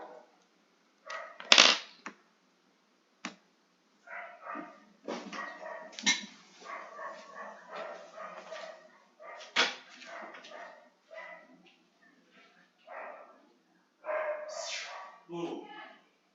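Agitated dogs bark in sharp, irregular bursts in and around a house, fairly close, alongside a person talking.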